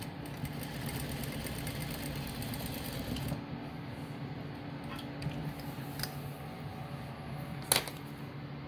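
A sewing machine back stitches a fabric face mask, its steady, fairly quiet mechanical hum running throughout and broken by brief stops, a few faint clicks and one sharper tick near the end.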